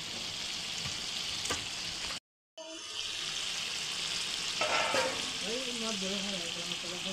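Meat and potatoes, already boiled, cooking together in a pan with a steady broadband sizzle, broken by a brief silent gap, then continuing with soft stirring scrapes and a faint hiss.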